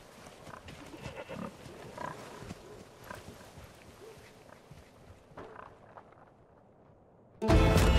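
Pigs wearing party hats grunt and oink in the video game Far Cry 5. The grunts are faint and intermittent against ambient game noise, and a loud burst cuts in at the very end.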